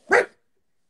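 A person imitates a dog's bark with the voice, giving a single short, loud yelp-like woof followed by silence.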